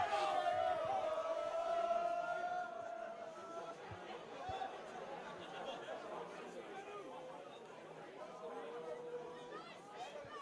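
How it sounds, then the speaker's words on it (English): Crowd chatter and scattered shouts rise from spectators at a Varsity 2022 rugby match at Cochrane Park, a fairly distant, low-level murmur that fades slightly after the first few seconds. "The crowd's really starting to build up now here at Cochrane Park."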